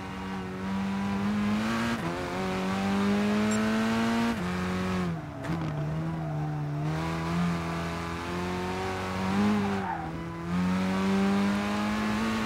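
Race car engines in GT Sport at Brands Hatch Indy whine and rise in pitch through repeated gear shifts, dropping briefly between accelerations, loud and continuous with no talking.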